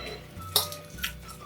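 A spoon clinks twice against a pan or bowl while broken pastry is stirred into a creamy butter bean and butter chicken sauce, two short metallic taps over a soft background.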